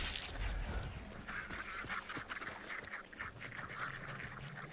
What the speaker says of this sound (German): Ah, und Enten.